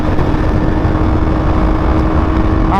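A KTM Duke motorcycle runs hard in fifth gear on a highway, a loud, steady engine drone mixed with heavy wind rush throughout, with no letup over the short stretch.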